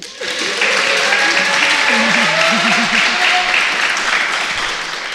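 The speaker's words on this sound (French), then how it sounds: "Lui aussi, il a le droit des applaudissements." An audience at a podcast event in Rennes gives sustained applause, dense and even clapping from a crowd, with voices audible over it.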